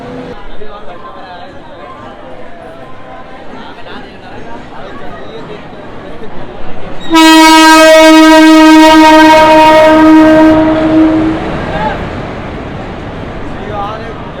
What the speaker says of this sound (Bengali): train number 14631 down Dehradun Amritsar express